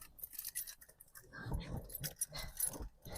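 Keys to a 2008 Cadillac Escalade jingle and clink in short metallic bursts, fairly close and quiet, with brief rustling handling noises between them.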